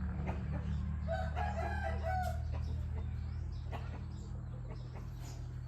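A rooster crows once at a middle distance, with scattered clucking from other chickens over a steady low hum.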